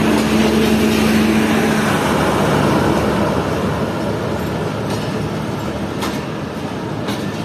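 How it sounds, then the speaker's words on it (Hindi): Fareed Express passenger train pulling away from Khanpur station, a loud steady rumble of wheels and carriages rolling along the rails with a low hum early on and faint clatter. "और हमारी ट्रेन ने भी यहाँ से चलना शुरू कर दिया है।"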